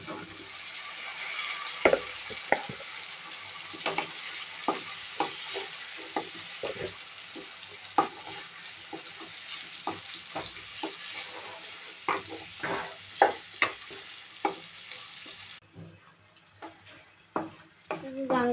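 Papaya stir-fries in a pan with shrimp and masala spices, a steady close sizzle broken by repeated scraping and clanking of a spatula against the pan, fading near the end.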